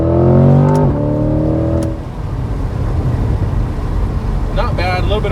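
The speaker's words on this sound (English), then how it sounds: "We're going to go ahead and try a launch in this and see how she hooks up" A 2022 Corvette Z51 launches hard from close range, its engine revving up and then shifting, with wheel spin and a continuous loud roar as it pulls away. A voice is also heard.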